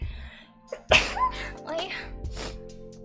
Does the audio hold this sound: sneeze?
yes